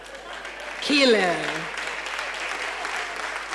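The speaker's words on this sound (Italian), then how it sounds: "Sì, voi applaudite perché siete come me." Applause from a church congregation at an Italian gospel Sunday service, a steady wash of clapping under a loud voice that rises briefly near the start.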